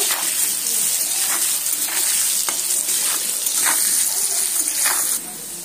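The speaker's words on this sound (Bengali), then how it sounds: "নুন হলুদ দিয়ে আলুটা সুন্দর করে লাল লাল করে ভেজে নেব।" Potatoes frying in hot oil with salt and turmeric, a steady loud sizzle running throughout with occasional stirring scrapes, easing slightly at the end.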